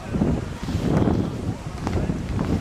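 Wind blows steadily outdoors and buffets the microphone with a continuous low rumbling roar. A voice talks faintly underneath.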